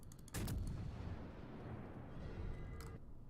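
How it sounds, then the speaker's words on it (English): Destroyer gunfire in the World of Warships naval video game: a sharp booming salvo followed by a rumbling tail and a second fainter report, moderately distant. "The destroyer shooting at me."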